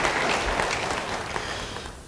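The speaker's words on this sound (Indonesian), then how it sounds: "Beri tepuk tangan bagi dia," A church congregation applauds together at a sermon, a dense, steady wash of clapping that holds for about two seconds and then thins out abruptly at the end.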